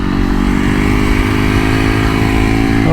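A supermoto motorcycle engine pulls hard under acceleration, a loud, steady, close buzzing drone with rising harmonic tones through the whole stretch, no talk.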